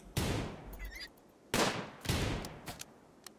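Guns fire in the colony game RimWorld in three sharp, loud reports spaced about half a second to a second apart, each decaying quickly, with faint clicks between them.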